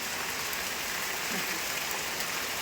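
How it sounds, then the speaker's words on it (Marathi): Sudden heavy rain comes down in a steady, dense hiss with fine patter, continuous and fairly loud, with water dripping from overhead and no speech heard. "अचानक आलेला हा पाऊस आहे आणि खूप जोरात होतो"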